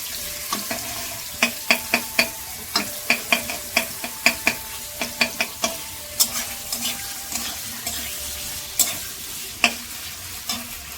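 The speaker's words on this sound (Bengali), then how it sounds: "আদা আর হিং ফোড়ন দিচ্ছি" Ginger and asafoetida tempering in hot oil for a vegetarian chana and jackfruit dish: a steady sizzle runs underneath while a spoon clinks sharply against the pan in quick, irregular bursts, close and without voices.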